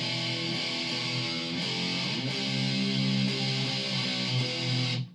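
Two electric guitars play the same part together in distorted power chords, a thick, steady, loud wall of tone that runs unbroken for about five seconds and then cuts off abruptly.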